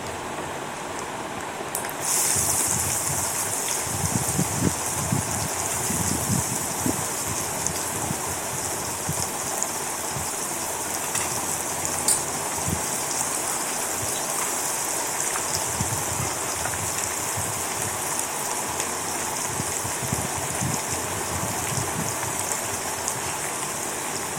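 Chopped carrot pieces frying in a pan for a spicy carrot stir-fry give off a steady, even sizzle, like light rain, with no voices over it.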